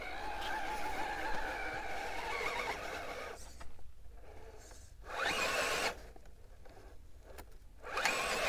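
Tires on an RC Vanquish VS4-10 Toyota crawler whir and slip against sandstone rock on a Sand Hollow trail, coming in several buzzing, grinding bursts between quieter pauses, faint and close.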